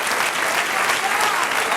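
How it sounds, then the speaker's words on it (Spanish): Church congregation applauding during a sermon, dense steady clapping from many people for a short burst, fairly loud and close. "Dale un aplauso al Señor, hermano."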